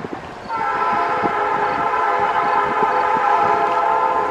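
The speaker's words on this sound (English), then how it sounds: "Do hear the train semi-close in the distance, but not bad." A train on a line near trails in Gary, Indiana sounds its horn in a long sustained blast over a steady rail rumble, fairly loud though somewhat distant, with no talking.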